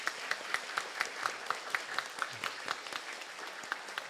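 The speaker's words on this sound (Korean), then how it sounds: "박수 한번 쳐주세요." An audience at a Lenten Taizé music retreat claps in steady applause, a soft, continuous patter of hands heard from a moderate distance, with no talk over it.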